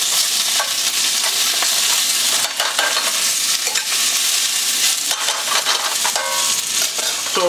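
Spinach sautés in a hot pan with garlic, Calabrian chilies and white wine, a loud steady sizzle with scattered stirring scrapes and clicks, and no voices.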